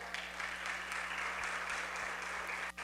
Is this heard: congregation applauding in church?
yes